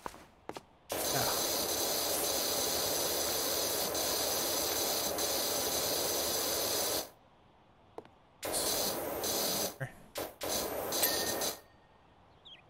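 Pressure washer spraying a wooden birdhouse in PowerWash Simulator, a loud steady hissing jet that runs for several seconds, stops, then resumes in shorter bursts.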